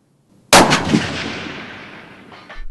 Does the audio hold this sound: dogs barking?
no